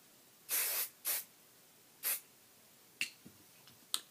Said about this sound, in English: So I'm just going and finishing it with a layer of hairspray.